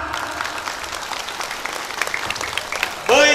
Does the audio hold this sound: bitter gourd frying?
no